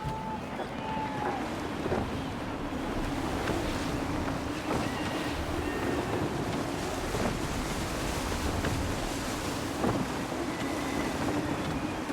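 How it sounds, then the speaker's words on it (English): Gusty wind on a sailing ship in the Assassin's Creed 3 video game, a continuous roar of wind and surging sea with creaks and brief knocks, holding loud and steady throughout. "Gusty winds can be difficult to manage."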